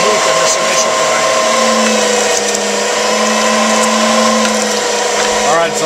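An electric meat grinder forces sausage meat through a fine die on a second grind, a loud continuous motor whine with a steady hum, unbroken throughout.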